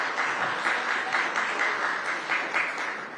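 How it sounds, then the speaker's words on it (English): Steady audience applause at the launch of the Jamaica Business Gateway, a dense wash of many hands clapping that swells in small waves throughout. "Give them a round of applause."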